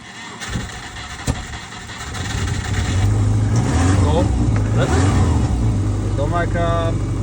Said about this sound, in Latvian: motors iet